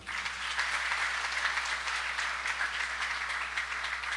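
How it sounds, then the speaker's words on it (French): A church congregation applauding during a Sunday worship service, dense continuous clapping from many hands filling the hall at an even level for the whole stretch. "on nous applaudit Seigneur là"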